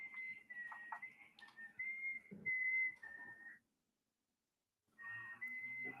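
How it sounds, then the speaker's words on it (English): Someone whistles a few clear, sustained notes in short phrases, pauses in silence, then resumes whistling in a quiet indoor room. "Who's whistling?"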